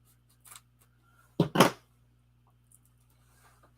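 Scissors snip through kit pieces from a large deco kit with two quick, crisp cuts close together, alone in an otherwise quiet room apart from a faint background hum.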